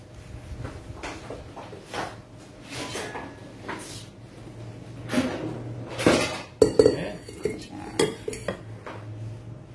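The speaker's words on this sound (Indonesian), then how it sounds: "Oke, saya coba mengaduk cream cheese-nya dulu, Cik Mimin." Cream cheese stirred in a bowl during a baking demonstration, giving repeated clinks and scrapes of a utensil against the bowl that grow louder and sharper in the second half, with no talk.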